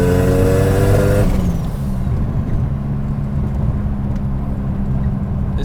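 A 720bhp three-rotor swapped Mazda RX7 being driven, its engine giving a loud, steady, close droning roar with a brief revving rise at the start that settles into a continuous rumble.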